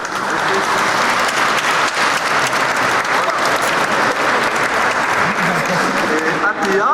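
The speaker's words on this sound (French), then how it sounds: "on peut applaudir nos Brigitte sur les fêtes" Church congregation applauding through the whole stretch, a steady dense wash of many hands clapping, loud and close, with voices mixed in underneath.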